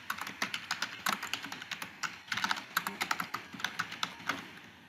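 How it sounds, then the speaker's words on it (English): Keyboard typing while entering heading text during PDF accessibility remediation work: a steady run of close, crisp key clicks in irregular bursts for about five seconds, with no talking. "And we'll type the text here."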